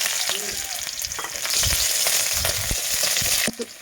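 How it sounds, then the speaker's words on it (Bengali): Panch phoron, dry red chilli, garlic and chopped onion crackle and fry in hot oil for lentil dal, a loud close sizzle with scraping stirs and a brief clatter near the end. "আমি তেলটাতে দিয়ে দিলাম 5 ফোড়ন আর দিয়ে দিলাম শুকনা লঙ্কা, এটা রসুন আর পেঁয়াজ কুচি আমার"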